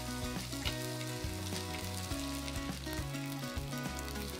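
A steady, close sizzle of soaked sabudana sautéing in a cumin and mustard seed tempering for khichdi. Fine spitting crackle continues throughout, alone without voices.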